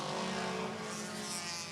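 Race cars at Barrie Speedway roaring on the oval track, a continuous loud engine drone with a slight pitch sway, cars driving hard into turn one on the final lap.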